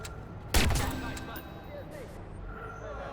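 A rifle fires in the Watch Dogs video game: one sharp, loud shot with a rumbling reverberant tail that fades into steady background game ambience.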